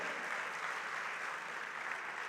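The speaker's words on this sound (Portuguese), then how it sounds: "Aplauda ao Senhor, querido" Steady, dense applause from a church congregation during a sermon, continuous and moderately distant, with no pauses.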